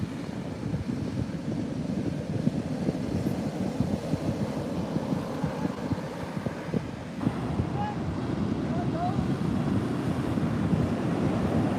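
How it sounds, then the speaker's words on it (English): Ocean surf rolls onto a Florida beach as a continuous low rumble, heavily buffeted by wind gusting against the microphone throughout. "for Florida, these are really good waves"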